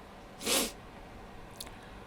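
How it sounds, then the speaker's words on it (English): A single quick, breathy sneeze bursts out close by, followed by a faint short sniff. "Oh, I gotta have a sneeze."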